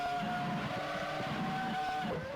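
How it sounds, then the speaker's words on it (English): A Formula One car idles and revs on the grid in the Assetto Corsa racing game, a steady loud buzzing engine note that swells slightly before dropping at the end, no voices over it. "And the revs build."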